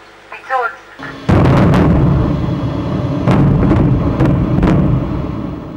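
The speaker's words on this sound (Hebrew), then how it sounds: "פיצוץ." Blasting of an 800-ton rock in Ramon Crater goes off as a sudden, very loud, close explosion after a brief countdown voice, followed by a sustained roaring rumble with falling debris cracks for several seconds.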